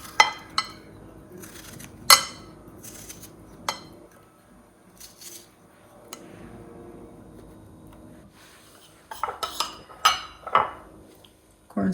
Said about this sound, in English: Then slice the strawberry.